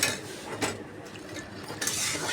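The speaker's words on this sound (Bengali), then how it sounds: "তরকা ডালটা ঢেলে দিচ্ছি।" Tarka dal is poured into a pot in thick, splashy bursts with clinks of metal, two louder surges standing out over a busy kitchen background.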